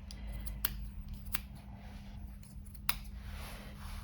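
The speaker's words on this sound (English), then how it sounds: "we're just going to trim around that with some scissors" Scissors trimming the fur of a Persian cat during a lion cut, giving a few crisp, close snips over a low steady background hum.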